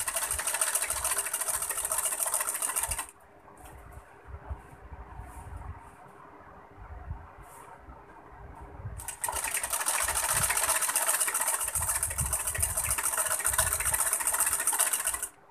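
A sewing machine rattles loudly and close while stitching a fall onto a saree, running in two bursts separated by a quieter pause of a few seconds, with no speech.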